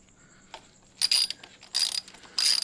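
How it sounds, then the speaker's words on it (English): A ratchet loosens exhaust hanger bolts on a Ducati Panigale V4S, giving three short, crisp bursts of rapid clicking up close, separated by quiet pauses. "So just loosen the two bolts right here."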